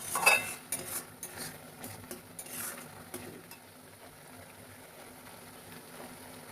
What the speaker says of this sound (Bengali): এইভাবে নাড়তে হবে, না হলে তলায় লেগে যাবে।